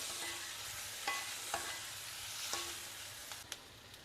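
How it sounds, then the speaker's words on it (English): Baby potatoes roast in a pan over a low flame and give off a gentle, steady sizzle, broken by a few light clicks of a spatula or pan taps. "Now allow it to roast over a low flame. Continue cooking it till it gets a lovely crispy coating on the outside."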